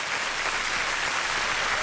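An audience applauds a comedy trapeze duo with steady, dense clapping throughout, moderately loud and without talking.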